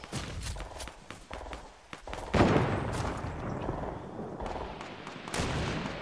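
Bursts of gunfire ring out in the Fortnite video game, rapid cracking shots mixed with footsteps and dense game noise that swells midway through.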